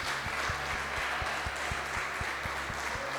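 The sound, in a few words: congregation applauding in church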